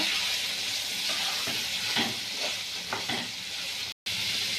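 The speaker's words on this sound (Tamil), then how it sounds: "நெக்ஸ்ட் நம்ம அரைச்சி வச்சிருக்க மசாலா ஆட் பண்ணிக்கோங்க. வதக்கி விட்டுக்கோங்க." Ground masala paste sautés in a pan for crab curry, a steady close sizzle and hiss with soft spoon stirring scrapes throughout, briefly cut by a moment of silence near the end.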